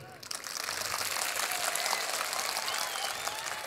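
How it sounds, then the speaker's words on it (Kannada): Sustained applause from a large audience at a comedy show during a temple fair, dense and steady clapping throughout with a crowd murmur beneath. "ಚಪ್ಪಾಳೆ ಅಂದ್ರೆ ಹೆಂಗಿರ್ತಾವೆ ನೋಡ್ರಿ"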